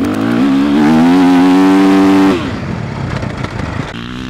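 Motocross bike engine revving hard through the gears up close, a loud sustained high-pitched wail that climbs in steps with each shift, then drops to a rougher, lower idle-like rumble after about two seconds.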